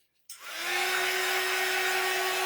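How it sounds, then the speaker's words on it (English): A hair dryer switches on and blows steadily at close range over a painted plastic snowman, a loud rushing whoosh with a constant motor whine that ramps up quickly and holds. "I'm going to hit this with the dryer for a second to try to set it"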